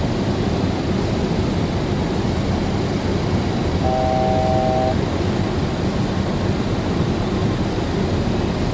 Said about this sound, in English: That's the altitude alert.